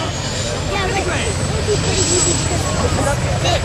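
A Marine Cobra military helicopter with twin gas turbine engines, part of a mass military helicopter departure, roars steadily with a loud turbine whine and rotor rumble, with voices heard faintly underneath.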